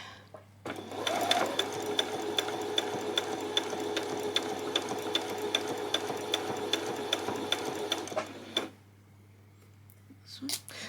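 A domestic sewing machine runs steadily for about eight seconds, stitching over lace on a peasant top, with a fast even mechanical whir and regular ticking, then stops and leaves a short quiet stretch.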